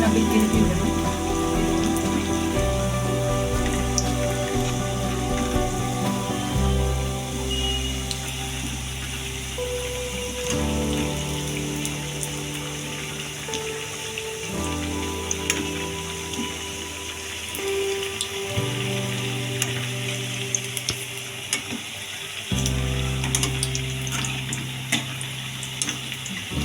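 Onion vadai, made with gram flour, fry in hot oil with a dense, continuous crackling sizzle throughout, steady and close, with faint low background tones.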